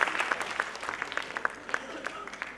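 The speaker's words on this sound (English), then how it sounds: "Give them a huge round of applause, ladies and gentlemen, once again." Audience at a school annual day clapping: a scattered, moderate patter of individual claps with uneven rhythm, fairly close and thinning out toward the end.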